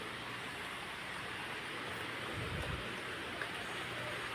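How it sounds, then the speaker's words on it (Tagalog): Steady, dense typhoon rain pours down continuously in Boracay, a broad hiss with a low rumble beneath it, no voices. "umuulan na naman"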